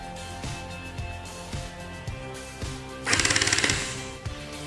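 A BingFeng P90 V3 gel blaster fires rounds through a chronograph, giving a steady motor hum with periodic mechanical clunks. Near the end comes a rapid, louder burst of firing.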